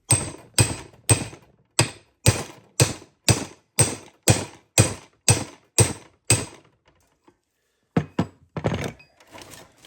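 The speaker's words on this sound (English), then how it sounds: "Then I'm going to take my punch. I'm going to drive that back down in there, hopefully." Hammer blows drive a punch to seat a u-joint bearing cap on a 2004 Jeep Grand Cherokee WJ driveshaft, about thirteen sharp, evenly spaced metallic strikes up close, then a pause and a few lighter knocks.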